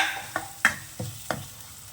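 Chettinad crab gravy being stirred and sautéed in a pan: a few sharp scraping strokes against the metal, spaced about a third of a second apart, over a faint sizzle with no voices.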